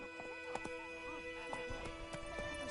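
Roach the horse galloping in The Witcher 3: rhythmic hoof clip-clops with a horse's snorts and whinny-like calls, faint and steady across a few seconds, with no talk.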